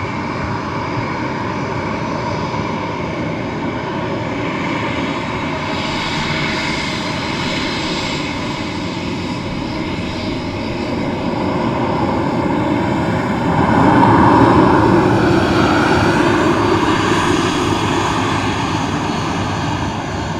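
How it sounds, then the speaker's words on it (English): A Ryanair Boeing 737 MAX arrives at Dublin Airport, its jet engines a steady, loud roar that swells slightly near the end as it passes, with no talking. "Our second Ryanair Boeing 737 MAX"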